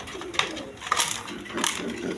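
Racer pigeons, a big light-coloured breeding pair kept at a farm, coo softly in three short low bursts, close by in a brief quiet moment.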